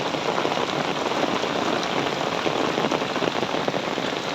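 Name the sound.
rain on umbrella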